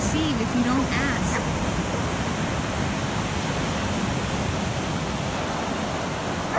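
Steady broadband wash of beach surf, a soft continuous roar without distinct wave breaks, with faint background sounds briefly at the start.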